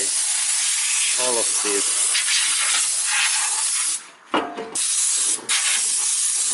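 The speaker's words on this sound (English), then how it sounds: "we need this compressed air. And here is my compressed air" Compressed air blasts loudly and steadily while dirt is blown out of a Toyota Camry automatic transmission, a close, harsh hiss that cuts out briefly a couple of times before resuming.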